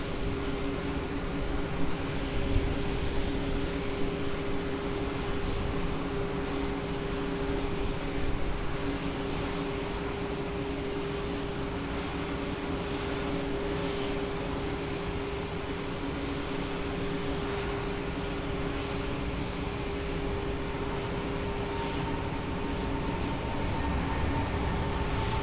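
Steady, broad roar of aircraft at Lisbon Airport, with engine noise holding evenly at a distance and a faint tonal hum running underneath, and no voices.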